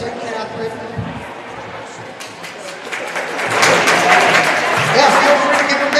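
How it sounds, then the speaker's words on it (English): An audience at a high school diving finals breaks into applause, starting faint and swelling into full, close clapping in the second half, with a voice talking over the start. "feel free to give a big clap"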